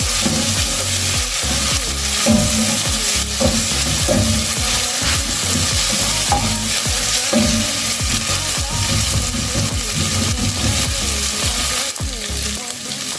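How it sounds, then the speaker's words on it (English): Garlic and onions frying in a pan for homemade pizza sauce, a loud continuous sizzle with stirring scrapes and clatter running throughout, no voices. "we want our garlic and our onions to be well cooked"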